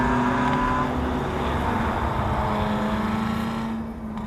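A 1975 Toyota Corolla swapped with a supercharged Lexus SC400 V8 runs close by, a loud, steady, throaty engine drone holding constant before easing slightly at the end.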